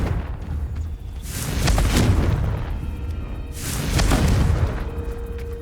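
Two deep booming blasts from the Confringo fire spell in Hogwarts Legacy, each a rumbling burst with a fading tail, a couple of seconds apart over game background sound.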